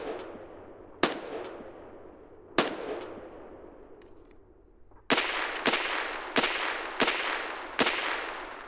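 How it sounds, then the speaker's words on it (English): Distant gunshots in Escape from Tarkov SPT, single sharp cracks spaced irregularly, then a quicker run of five shots echoing off the surroundings, with no talk. "Where are those shots coming from?"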